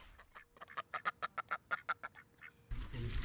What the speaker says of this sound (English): There are a lot of birds around here.